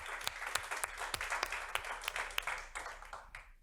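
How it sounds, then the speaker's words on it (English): A studio audience at a TV show claps in applause, a dense patter of many hands with sharper individual claps, moderately loud and steady before tapering off at the end. "Let's give you a round of applause."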